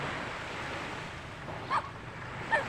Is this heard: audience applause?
no